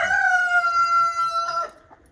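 A single hen gives a drawn-out, tonal call at close range, lasting about a second and a half before trailing off into quiet.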